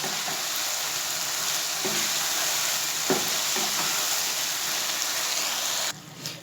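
Chicken bhuna masala in a pan with crushed roasted cumin stirred in: a steady, dense sizzle with a few soft knocks of a spoon, and the sound drops sharply near the end.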